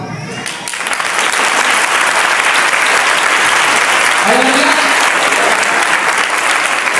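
A church congregation breaks into sustained, loud applause during a sermon, dense clapping swelling within a second and holding steady, with a preacher's voice briefly heard over it.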